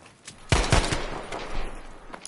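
Pistol shots in a video game: a short burst of three or four sharp cracks in quick succession, followed by a rough noisy tail and another shot at the very end, moderately loud with no talk.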